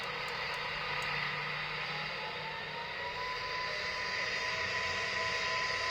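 A steady airplane engine drone in a video game landing with a damaged right engine fills the whole stretch, a constant broad roar with a faint high whine, no voices.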